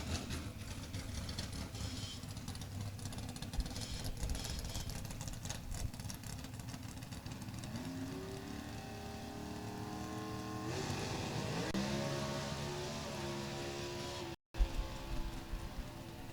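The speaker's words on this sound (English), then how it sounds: "You can hear the engine going silent down at the other end of the racetrack." A drag racing car's engine at the JEGS Sportsnationals rumbles far down the racetrack, a broad rough roar that rises in tone briefly before shutting off early and fading, with steady crowd and track noise throughout.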